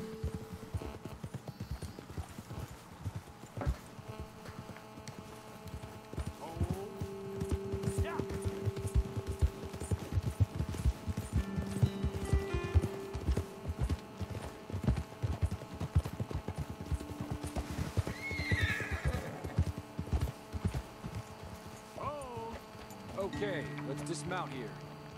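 Horses clop along at a walk in the Red Dead Redemption 2 video game, steady hoofbeats under game music, with a brief whinny and voices talking at moments.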